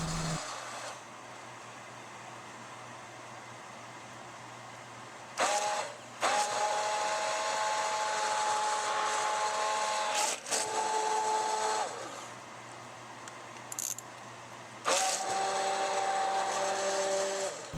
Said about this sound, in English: go kind of slow with this kind of a blender until you're used to using it, or else you could make a mess